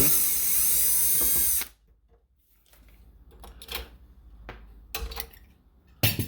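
A power screwdriver whines steadily as it backs out a Phillips screw from a deadbolt lock, then stops, followed by scattered metallic clicks and handling taps, close and alone.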